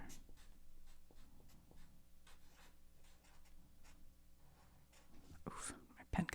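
Soft scratching of a pen moving across paper in short strokes, with quiet breathy sounds and a brief louder rustle near the end.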